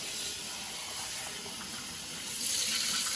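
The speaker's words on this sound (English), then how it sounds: "this is where we wanna kind of shock the eggs real quick with cold water" Cold tap water runs steadily into a pot of just-boiled eggs to shock them, a continuous broadband rushing hiss that holds level and swells slightly louder toward the end, with no voices.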